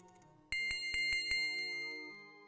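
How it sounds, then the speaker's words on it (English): A bell at a shrine of honesty in the Ultima VII video game rings out in a quick series of about five bright metallic strikes, then a sustained shimmering tone that slowly fades, with no talking. "No, there is a bell."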